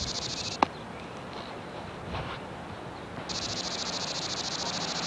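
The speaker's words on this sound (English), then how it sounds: "The 17-year cicada." Seventeen-year cicadas produce a steady high-pitched buzzing drone outdoors, fading slightly mid-way and then returning stronger, with a single sharp tap near the start.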